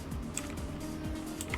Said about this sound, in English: Wow, typing with socks is not easy.